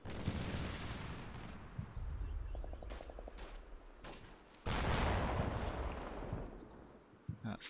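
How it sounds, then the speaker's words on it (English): Mark 19 grenade launcher bursts mixed with small arms fire in a modern combat video game, a steady roar of distant shots with a rapid string of sharp reports and heavier impacts, loud and dense throughout. "That's the Mark 19 again. And plenty of small arms fire."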